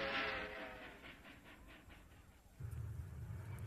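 Train sound effect in a children's television story about riding a train to a vacation, a soft rhythmic chugging that fades into a steady low rumble, faint and alone.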